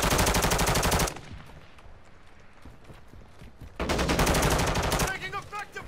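Rapid automatic gunfire rattles loudly in Call of Duty: Modern Warfare II, coming in two dense bursts separated by a quieter pause with distant shots, and a voice speaks in the background.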